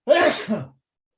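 A single close, loud human sneeze, a sharp burst followed by a softer trailing exhale, then silence.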